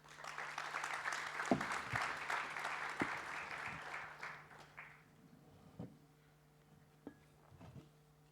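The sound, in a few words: audience applause for conference panelists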